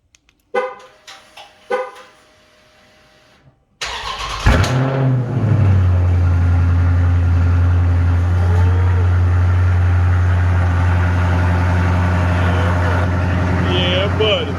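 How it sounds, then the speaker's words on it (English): Car engine with factory exhaust tips cold-starting after sitting a few days: a cranking burst, then a loud, steady low idle rumble that holds close and continuous, with brief sounds before the start. "Cold start."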